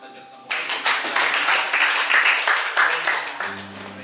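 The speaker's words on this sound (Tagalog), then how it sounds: "Malakas na palakpak sa Diyos na buhay." A church congregation breaks into loud, sustained applause, steady clapping for about three seconds before it fades as instruments return.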